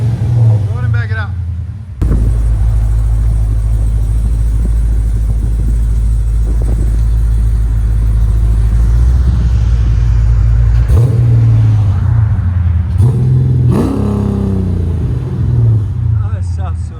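A built Chrysler 300C with a swapped 6.1L HEMI V8, headers and Flowmaster exhaust idles with a loud, deep, steady rumble close by, then gives two sharp rev blips near the end.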